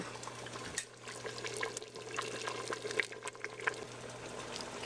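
Homemade rustic cabbage soup is ladled into a small cup, a soft, close liquid pouring and sloshing with light clinks, quiet and without talk.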